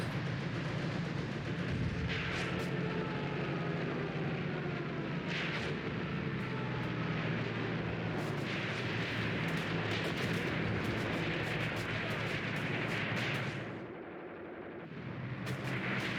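Airstrikes and artillery in a World War II tank battle game set in Tunisia 1943, a continuous roar of explosions and rumbling blasts with sharp bursts, easing briefly near the end before resuming.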